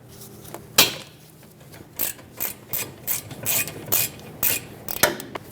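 A ratchet unthreads a rear brake caliper bolt on a 2019-2024 Subaru Forester, giving a series of loud, close, rhythmic raspy clicking bursts, each followed by a short pause.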